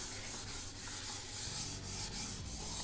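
Computer mouse sliding on a Pulsar Superglide 2 ultra-thin glass mousepad, a continuous close scraping and rubbing hiss with slight back-and-forth swells, fairly quiet and heard alone.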